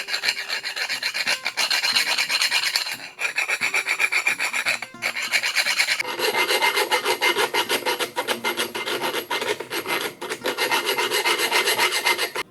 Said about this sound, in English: I'm gonna file out every single one of these so that it's not an issue for me in the future with this exact sprocket.